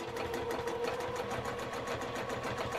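A sewing machine runs steadily through free motion quilting on a table topper, its rapid needle stitching forming a continuous close-up mechanical buzz with no voices over it.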